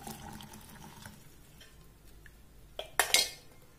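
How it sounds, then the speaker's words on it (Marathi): Utensils clink and scrape as a homemade weight loss drink is strained after cooking, a few sharp metallic knocks near the end over a quiet kitchen background. "हे आपल्याला गाळून घ्यायचे आहे."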